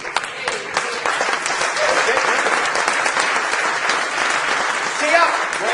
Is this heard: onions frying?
no